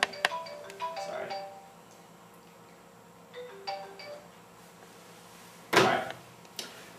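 A new mobile phone chimes in short bright tonal bursts scattered across several seconds, fairly quiet and in a room, with a louder clatter near the end and no talking over it.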